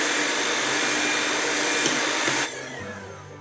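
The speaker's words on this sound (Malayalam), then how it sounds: "ഇനി നമ്മൾ ജസ്റ്റ് ഇതൊന്ന് ലൈറ്റായിട്ട് ഏറ്റവും ലോയിലിട്ടിട്ട് ഒന്ന് മിക്സ് ചെയ്തെടുത്താൽ മാത്രം മതി" An electric hand mixer whirs at its lowest speed through black forest cake batter, a loud steady motor drone that drops to a quieter, winding-down hum near the end.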